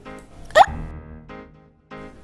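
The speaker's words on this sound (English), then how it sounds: "Got hiccups?" One sharp, abrupt hiccup stands out, close and loud, among soft tonal vocal sounds with brief pauses.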